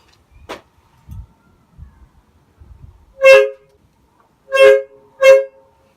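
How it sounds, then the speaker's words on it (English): A cheap aftermarket twin air horn for a truck, fed by a small electric compressor, sounds three loud close blasts, one longer and two short, after some quiet handling clicks. "you've got two air horns here"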